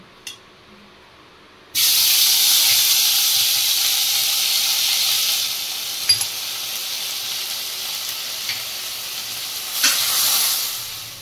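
Butter, cumin and asafoetida tempering in a pan for palak paneer: a strong, steady sizzling hiss bursts in after a brief quiet start and continues throughout, with a few small clinks on top.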